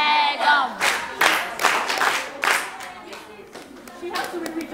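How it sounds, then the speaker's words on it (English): Students in a classroom clap for a classmate in short, uneven bursts, with a teacher's voice and other voices talking between and over the clapping. "Very good. Clap for her."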